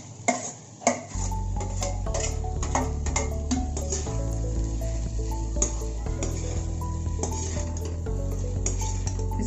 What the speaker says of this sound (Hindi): इसको हम अच्छी तरीके से मिक्स कर लेंगे।